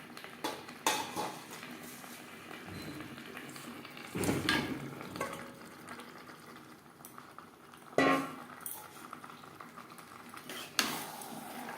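Fish heads are stirred with spices and potatoes in a pan for muri ghonto, a low sizzle under intermittent metal spoon scrapes and clanks against the pan, with a few louder knocks, no talking.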